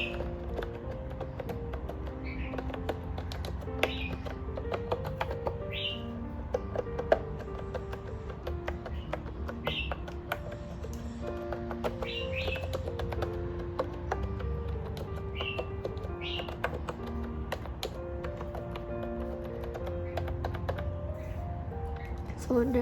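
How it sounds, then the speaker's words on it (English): Rapid, irregular key clicks from a BT21 keyboard run continuously at close range, with fairly even loudness throughout. "I'll type some random words to let you guys hear how the keyboard sounds like"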